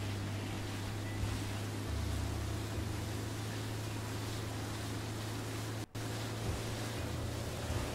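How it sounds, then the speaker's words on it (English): A low, steady motorboat engine on a river in the video game Far Cry 5 drones on with a constant hum over washing water noise, moderately quiet with a brief dropout partway through. "We're just going to boat our way up the river here."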